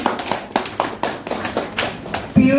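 An indoor audience claps in short bursts, with several sharp rounds of applause rising and fading in quick succession, followed by a brief tonal sound at the end.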